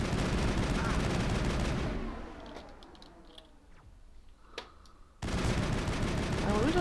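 Gunfire in the Mass Effect video game during a firefight with a sniper, heard as bursts of loud shots at the start and end with a quieter stretch of scattered clicks and small pops in between.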